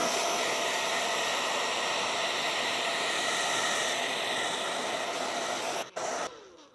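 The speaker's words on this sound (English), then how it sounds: "What I would do is grab my blow dryer and I'll dry it." A handheld blow dryer runs steadily for several seconds, drying fresh paint on a painted study of hands, a loud continuous airy whoosh that cuts off abruptly near the end.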